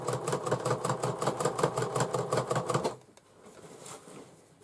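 A sewing machine stitches fabric for a bag, a fast, even, rhythmic clatter close by that runs for about three seconds and then stops, leaving only faint room noise.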